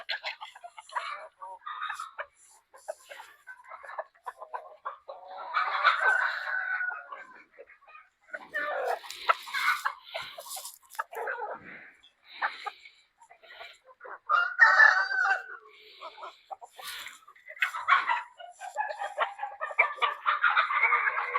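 Hens cluck and cackle in bursts throughout, a busy flock nearby, with an occasional louder call rising above the chatter.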